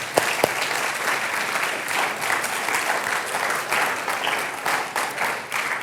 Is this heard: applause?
yes